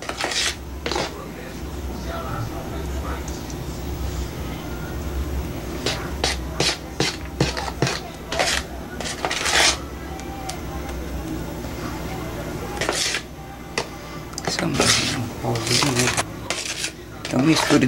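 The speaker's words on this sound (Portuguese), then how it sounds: "misture delicadamente o creme de leite" Cream is stirred into a pavê mixture in a bowl, with repeated scraping and clinking of a utensil against the dish alongside a voice talking.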